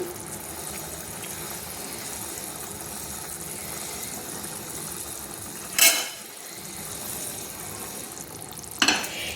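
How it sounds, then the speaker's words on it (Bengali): Marinated hilsa fish pieces for mustard hilsa frying in a pan, a steady close sizzle with two sharp bursts of spatter as pieces are added, no talking. "সেই ম্যারিনেট করা মাছগুলো আমি দিয়ে দিচ্ছি। এক একে মাছগুলো আমি ছেড়ে দিচ্ছি।"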